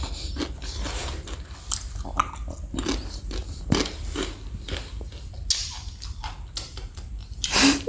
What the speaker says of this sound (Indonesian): Dan juga ketika dimakan itu renyah.